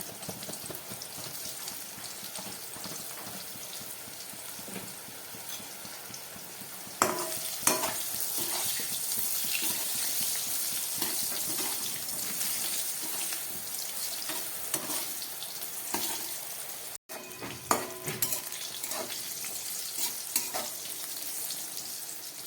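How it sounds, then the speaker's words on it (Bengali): Salted, turmeric-dusted eggplant slices fry in hot oil for a pabda fish curry, producing a steady, close crackling sizzle that swells as the pieces are stirred and turned, with occasional utensil knocks. "বেগুনগুলো ভাজা হয়ে গেছে"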